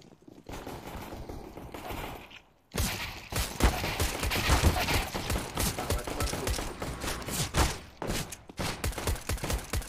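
Rapid bursts of gunfire in the video game Counter-Strike crackle almost continuously, dense and loud, after a short quieter stretch at the start.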